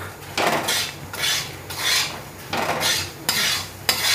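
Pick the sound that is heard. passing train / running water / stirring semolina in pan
stirring semolina in pan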